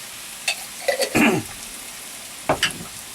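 Ginger garlic paste is stirred into a frying pan, with soft sizzling beneath short bursts of scraping and clattering from the spoon. A brief throat-clearing or cough sound can be heard among the stirring, and there is no speech.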